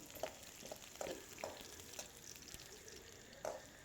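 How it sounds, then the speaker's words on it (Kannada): Dry coconut frying in a pan over a medium flame, with soft intermittent scrapes and light sizzling, quiet and close, with no voices. "ಒಣ ಕೊಬ್ಬರಿ ಹಾಕ್ಕೊಂಡು ಫ್ರೈ ಮಾಡ್ಕೊತಾ ಇದ್ದೀನಿ"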